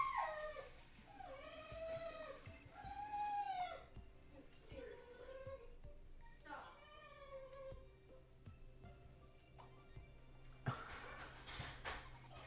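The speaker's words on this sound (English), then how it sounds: "I don't know if you guys can hear the dog in the background" A distressed dog howls and whimpers in repeated drawn-out, wavering cries, the first few louder and the later ones fainter, heard in the background of a room alongside a low steady hum and a few scattered clicks.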